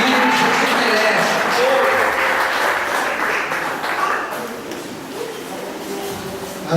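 A church congregation applauding during a Portuguese-language worship service, thick continuous clapping that swells early and gradually eases, with some shuffling and faint voices mixed in.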